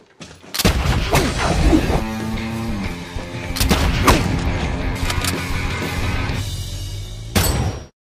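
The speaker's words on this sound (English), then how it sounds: "His house was showered with bullets, and the attackers even lobbed a grenade in an attempt to eliminate him." A burst of gunfire and a grenade explosion in a film action scene: loud, dense shots and booming blasts fill several seconds, with a final sharp bang before the sound cuts off.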